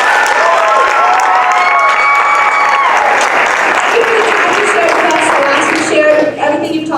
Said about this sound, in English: give Miss Rachel Haywood a ginormous round of applause and a big thank you from all of us